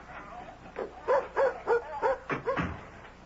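A dog gives a run of short, eager barks and yips close by, about half a dozen rhythmic bursts in quick succession before a longer whine, set in a dramatized scene about a trip to the beach with a red frisbee.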